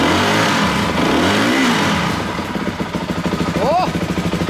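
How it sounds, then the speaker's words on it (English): A motorcycle engine revs up close by, rising and falling in pitch, then settles into a rapid, pulsing idle with a quick blip near the end. "so when we rev it,"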